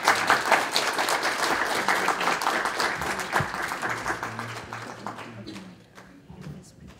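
An audience applauds an author at a book kick-off event, the clapping full and sustained at first, then thinning and fading toward the end, with some talk mixed in.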